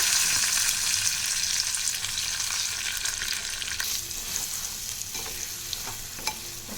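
Garlic, urad dal, cumin, mustard seeds, dried red chillies, curry leaves and ginger chutney fry in hot oil, sizzling steadily and close with occasional stirring clicks and no talk.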